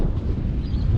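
Strong wind buffets the microphone outdoors by the water at Weipa, a brief, low, steady rumble with no voices.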